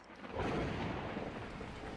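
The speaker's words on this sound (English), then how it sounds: "At that moment, the heavens opened up, unleashing torrential rain." Heavy rain pours down with a deep rumble of thunder rolling underneath, a dense, steady wash of noise throughout, in the video game Beacon Pines.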